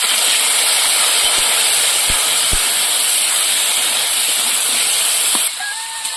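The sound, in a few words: taro frying in oil in a wok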